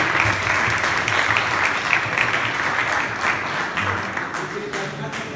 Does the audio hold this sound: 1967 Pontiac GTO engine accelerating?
no